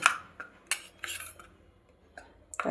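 A spoon scrapes and clinks against a bowl while spinach batter is mixed with a little mustard oil, a few sharp close taps spaced over a couple of seconds.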